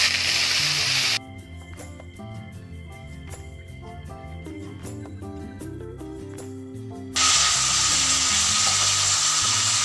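Coriander and curry leaves frying in a pan for Rayalaseema natu kodi pulusu, country chicken curry: a loud, hissing sizzle at the start that drops out while music plays, then returns strongly near the end.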